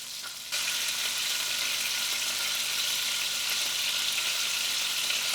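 Loud, constant sizzling of garlic butter steak bites frying, a bright crackling hiss that jumps up suddenly after a brief quieter moment and stays steady.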